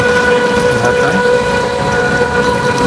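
A metro train rumbles steadily past close by in the rain, a loud continuous roar with a sustained tonal whine riding over it throughout.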